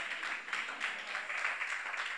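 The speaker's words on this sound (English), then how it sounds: "Come on, clap your hands and say" A church congregation at a prayer meeting claps hands in a dense, continuous patter with slight pulses, moderately distant and brief.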